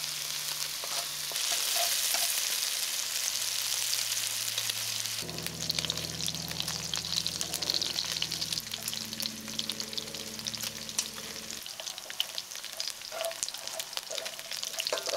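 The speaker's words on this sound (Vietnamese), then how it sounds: "tiếp tục cháy thịt trên chảo cho thịt ra thêm mỡ nha" Pork sizzling and rendering fat in a hot pan, a steady dense crackle and hiss that runs throughout, close and loud, with low tonal hum shifting underneath and no talking.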